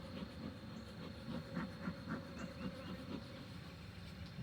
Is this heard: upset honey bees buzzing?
yes